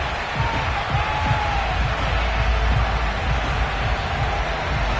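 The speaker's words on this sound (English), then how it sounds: "They love their football in this part of the country, and this crowd is ready to go" Stadium crowd in an EA Sports NFL football video game, a Minnesota Vikings matchup, giving a continuous roaring crowd bed with scattered whoops and cheers, steady and loud with no pauses.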